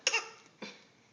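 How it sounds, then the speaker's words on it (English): A boy's fake cough, two short separate bursts, the first louder and the second fainter, close and alone with no talk. "Alex and his fake cough."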